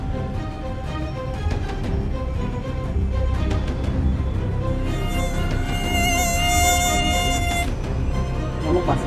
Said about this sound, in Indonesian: Nyamuk.